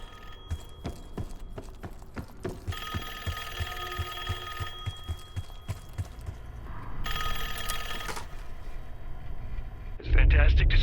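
A telephone rings inside the game Call of Duty: Black Ops 6, with repeated bell-like trills over layered game sounds, music and a voice, ending in a louder burst.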